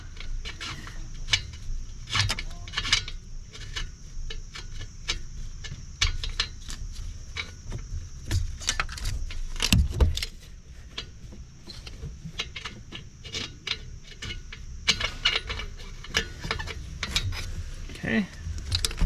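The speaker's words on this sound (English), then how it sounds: "Let me get my socket out. And then we'll just spin it out." Ratcheting socket wrench spinning a worn oxygen sensor with a bad heater circuit out of a 2015-2022 GMC Canyon or Chevy Colorado, giving rapid, uneven ticking clicks in bursts close by, with a few soft knocks and handling noises.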